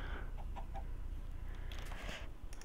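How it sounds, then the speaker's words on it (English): A baby chicken in the Minecraft video game gives a few quick, soft clucks early on, faint under steady game background noise and a brief burst of other sound, with no talking. "look at that baby chicken"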